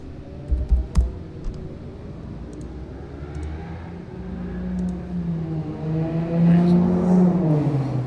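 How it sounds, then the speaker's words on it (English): Motorbikes ride past outside, an engine drone rising and falling in pitch as the machines approach and pass at middle distance, after a few close knocks and clicks at the start. "A lot of bikes driving past mine at the moment"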